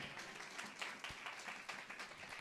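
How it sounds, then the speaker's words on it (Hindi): Church congregation clapping loudly for the Lord, a dense, steady wash of applause that stays faint and distant throughout with no voices on top. "ये ताली बजाएंगे खुदावंद के लिए, जोरदार ताली बजाएंगे"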